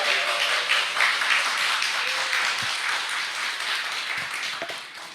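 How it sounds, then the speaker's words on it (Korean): A church congregation claps in steady, moderately loud applause that continues evenly and fades slightly at the end. "김창도 목사님 위해서 박수 한번 부탁드립니다"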